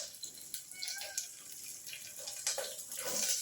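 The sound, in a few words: tap water running while washing vegetables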